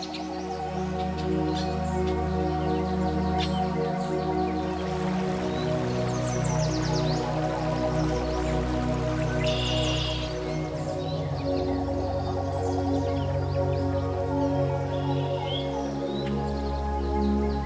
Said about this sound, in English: The wind blowing softly through the leaves, the birds singing up in the trees